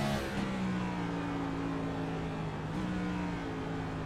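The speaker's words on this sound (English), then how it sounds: "listen to the RPMs through some of these corners" A race car at the Charlotte Motor Speedway Roval, its engine holding a steady high-RPM drone through the corners, with the pitch dipping briefly and climbing again, heard over a constant background wash.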